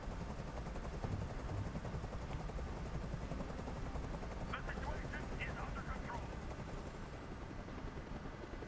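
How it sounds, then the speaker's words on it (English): Helicopter rotor noise from the video game Detroit: Become Human, a steady, loud broadband thrum filling the whole stretch, with scattered sharper bursts partway through and voices mixed in beneath. "Tell that helicopter to get out of here."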